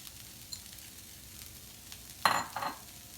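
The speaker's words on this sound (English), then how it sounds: "And now I'm just gonna add the herbs to it." Fresh herbs hit a hot pan of toasted corn in olive oil, setting off a sudden loud sizzle that flares twice and then settles back to a quiet crackle.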